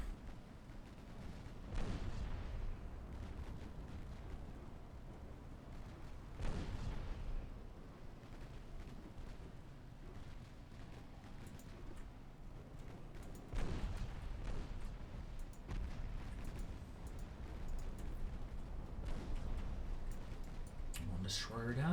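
Naval 6-inch guns firing in the video game Ultimate Admiral Dreadnoughts, several separate heavy booms spaced seconds apart over a low, steady rumble, quiet and somewhat distant.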